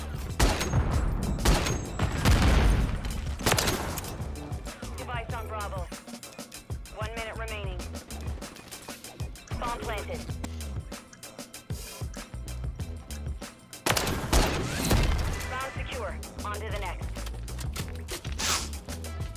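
Rapid gunfire from an RPK light machine gun fired from the hip in Modern Warfare 3, loud repeated bursts with mechanical clatter, under excited talking.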